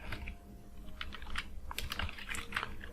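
The word diameter is typed on a computer keyboard in an AutoCAD text command, giving a short run of soft, uneven key clicks heard close and quiet with no talking.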